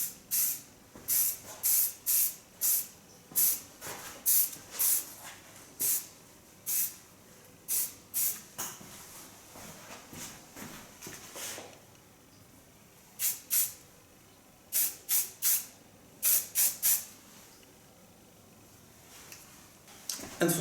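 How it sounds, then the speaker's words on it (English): Fine Lanza hairspray misted onto a person's hair in repeated short hissing bursts, some quick and clustered, some spaced apart, with quiet pauses between spray groups. "Take very fine hairspray. This one is of Lanza."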